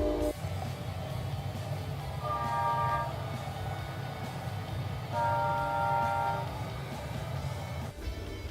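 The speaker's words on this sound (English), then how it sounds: "You can hear the freaking train." Low rumble of a passing train on nearby tracks, steady and continuous, with brief tonal horn-like notes sounding twice in the background.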